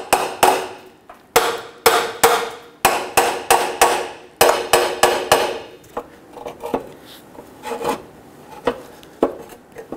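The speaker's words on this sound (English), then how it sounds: "Let's go ahead and give this a few taps." A hammer strikes a part on the exhaust pipe of a 2011–2021 Jeep Grand Cherokee 3.6L V6: a rapid run of loud, sharp, close metallic blows, then lighter, scattered taps and scraping.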